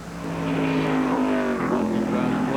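Busch Grand National race cars, among them a new Mike Laughlin road course car, roar past on the Watkins Glen International road course. The engine note is loud and steady with shifting pitch, and no voices are heard.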